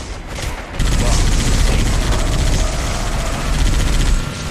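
Dense gunfire fills a Halo video game match, a loud continuous rattle of automatic shots close by, with a commentator's voice partly underneath.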